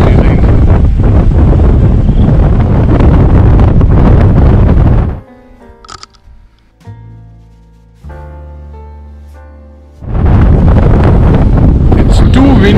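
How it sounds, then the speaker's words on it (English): Loud, rushing wind buffets the microphone at Lower Anaicut, dies away briefly while soft music plays, then roars back just as strongly. "It's too windy here that I couldn't even hold my camera very steady."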